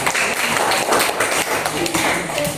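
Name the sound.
audience applause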